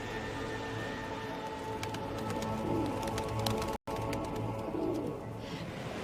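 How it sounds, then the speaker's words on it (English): Pigeons cooing among old ruins in a city square that was once a chariot racing track, soft repeated coos over a steady outdoor ambience with light chirps, no talking. "now it's become the city's favourite hangout for pigeons"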